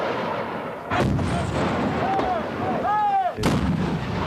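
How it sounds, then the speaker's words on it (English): Automatic weapons and light cannon fire on a Marine live-fire training range in Okinawa: heavy booming shots crack out at intervals over a rumbling backdrop, with whistling, ringing tones trailing between the reports. "Here, automatic weapons and light cannon are in constant use during training."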